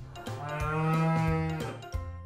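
A cow gives a single long, close moo that rises and falls over about two seconds, clear and loud with no voices over it.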